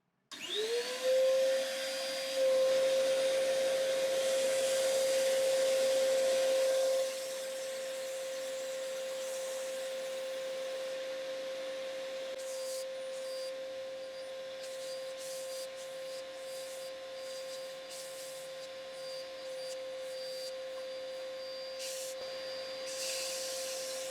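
A small electric sander working on wood for woodturned spatulas and spurtles, giving a continuous, close, whining motor drone with a steady tone and changing rubbing texture across the recording, no talk.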